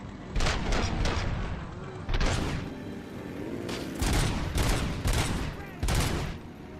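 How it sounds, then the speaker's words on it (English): Repeated gunfire from shooting a gas tank in the Robocop: Rogue City video game, about a dozen loud, sharp shots in uneven bursts with brief pauses between them. "I need to destroy one of these by shooting the gas tank."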